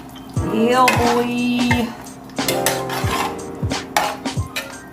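A spoon stirs donut bread pieces in a pot of liquor on a stove, giving repeated clinks and scrapes against the metal pot in uneven bursts, loud and close, with a brief spoken remark.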